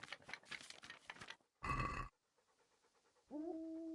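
A dog panting in the video game Kingdom Come Deliverance, a quick rhythmic burst of breaths followed by a louder panting stretch, with a tonal game sound entering near the end.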